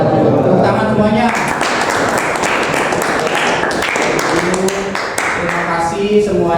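Classroom applause from students after a group presentation, a dense steady patter of clapping lasting throughout, with voices speaking over it.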